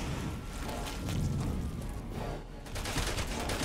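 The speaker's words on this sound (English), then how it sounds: "they're shooting" Gunfire from enemies in Resident Evil 6 on the Switch, a dense fusillade of rapid shots and thuds rolling continuously for a few seconds under game noise.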